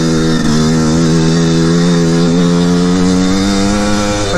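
A Yamaha Blaster ATV engine idles steadily while warming up, a close, continuous buzzy two-stroke drone with a slight waver in pitch and no revving throughout.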